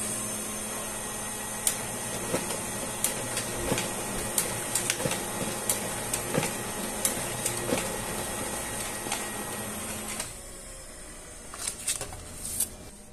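An HP LaserJet P4014n laser printer runs a five-page job with a steady mechanical whir and regular light clicks as pages feed, then quiets near the end.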